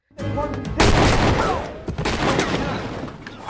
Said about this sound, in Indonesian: dengan menggunakan sepucuk pistol, Robert hampir saja tertembak